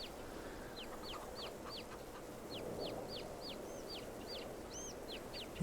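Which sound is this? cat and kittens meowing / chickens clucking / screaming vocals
chickens clucking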